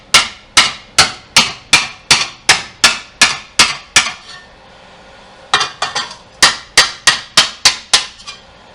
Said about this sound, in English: I'm going to take a hammer to it